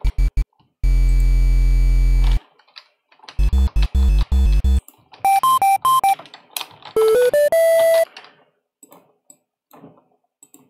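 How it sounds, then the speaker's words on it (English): A bit-crushed, downsampled triangle wave from the Sytrus synthesizer: loud buzzy sustained tones, then choppy stuttering bursts, then gritty rising and falling pitched runs, with short quiet gaps and faint clicks between them. "Operator 2 is a downsample triangle wave."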